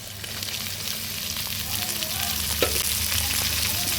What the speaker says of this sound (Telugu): ఉల్లిపాయలు పచ్చిమిర్చి ఇవన్నీ నూనెలో ఇలా వేయించుకోవాలి